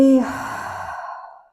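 A single breathy exhale during a Pilates exercise, strong at the onset with a short voiced tone, then fading smoothly over about a second and a half.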